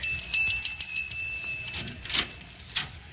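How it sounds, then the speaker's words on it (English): In a 1937 radio drama, a hand bell gives a couple of bright, brief rings late in the recording over a thin, old-broadcast background. "There's the bell, Jimmy."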